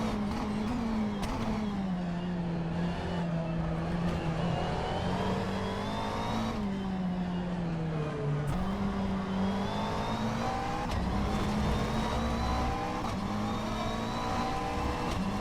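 McLaren race car engine in a VR racing game, a continuous loud drone rising and falling in pitch through gear changes over a full lap, with no talk.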